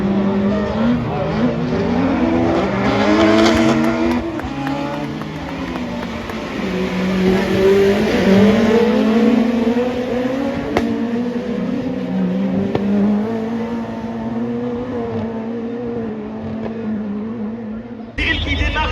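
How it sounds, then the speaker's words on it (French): Super 1600 rallycross cars roar away from a race start at Faleyras, engines rising and revving loudly and continuously, close by, with excited commentary running over the noise. "Cyril qui démarre très bien"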